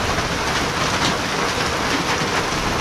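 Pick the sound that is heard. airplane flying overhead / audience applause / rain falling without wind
rain falling without wind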